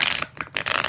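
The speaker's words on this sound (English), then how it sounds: "We're going to do 4 shuffles for Grace." Tarot cards are shuffled in one quick riffling pass, a bright papery flutter that briefly dips in the middle, close and lasting under a second.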